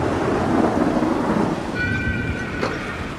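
A thunderstorm at sea during a ship voyage, loud driving rain and deep rumbling thunder filling the whole stretch, followed by a thin high whistling tone and a sharp crack near the end.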